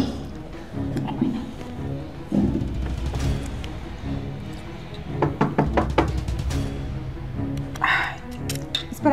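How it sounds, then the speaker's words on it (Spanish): Knocking on a door comes as a burst of quick, sharp raps in the middle, under and between speech, with a voice talking throughout in a domestic room. "Voy a abrir la puerta que están tocando."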